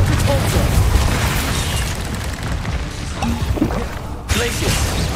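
In Hogwarts Legacy on PS5, a Confringo fire spell explodes in loud, close booms and bursts amid ongoing combat noise, with a voice speaking over the blasts.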